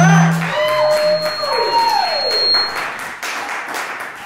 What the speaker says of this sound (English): give a round of applause for American Standards